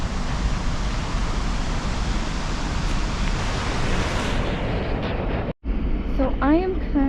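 Godafoss waterfall in Iceland roars as a loud, steady rush of falling water. The sound drops out briefly near the end, then returns as a voice speaks over it.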